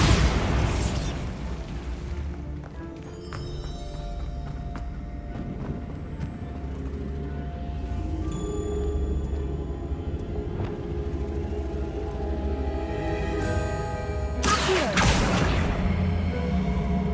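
The Bombarda spell in the Hogwarts Legacy video game sets off an explosion, a loud booming burst over a continuous dense rumble of game sound and music, with another blast near the end.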